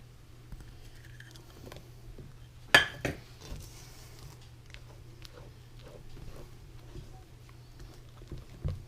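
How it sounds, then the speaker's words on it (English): Chopped strawberries are stirred into a whipped cream cheese filling in a bowl, with soft wet squelches and scattered spoon clinks against the dish, one sharper clatter early on, quiet and close. "Finally, we're going to stir in a half a cup of chopped strawberries."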